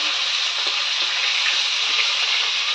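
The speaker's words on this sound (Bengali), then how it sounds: "এখানে মাছ ভাজা করছি" Fish fries in a pan in a home kitchen, an even, steady sizzle of hot oil with faint crackles and no talk over it.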